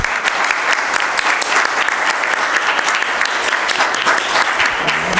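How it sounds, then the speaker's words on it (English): Audience at a community immigration policy panel in Seattle claps for the panelists, a loud, dense round of applause sustained throughout. "Please give our panelists a round of applause"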